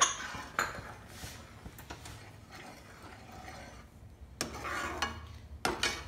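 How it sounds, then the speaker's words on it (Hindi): A spoon stirs sweet corn soup in a metal pot, giving scraping clinks against the pan at the start and in sharper bursts near the end, with softer stirring in between and no talk. "चम्मच से मिक्स करते रहेंगे"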